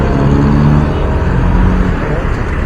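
Road traffic in Quezon City at Christmas time rumbles close and loud as cars and buses idle and move, with a person talking over the steady engine drone.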